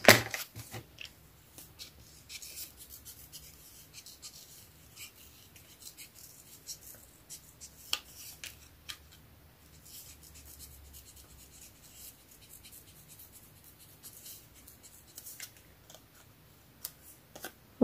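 Scissors cut paper card in quiet, close snips and soft rubbing scrapes, spaced out over a long stretch, with a couple of sharper clicks.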